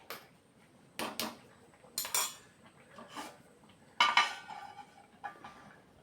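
A metal pot lid is set onto a pot of cooking prawn avial, producing a handful of separate clanks and rattling clinks spread across a few seconds, close and fairly crisp, with quiet gaps between.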